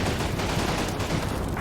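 A tank gun fires and its shell strikes an enemy tank in a World War II-style tank game, with a dense, rumbling burst of impact and explosion noise that sustains across the whole moment.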